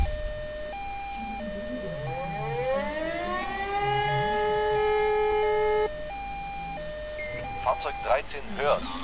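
A fire engine siren in the video game Emergency 4 wails, rising and falling in long sweeping tones, loud and steady, with a voice talking briefly underneath and a burst of clattering near the end.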